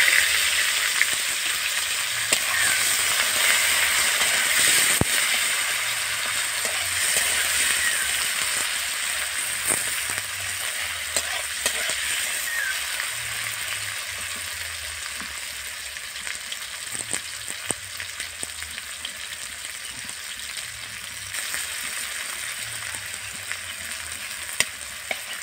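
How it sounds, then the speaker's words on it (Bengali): Chopped onions frying in hot oil make a continuous bright sizzle, with frequent clinks and scrapes from stirring over about twenty-five seconds. "পেঁয়াজগুলোকে একটু ভাজা ভাজা করে নেব"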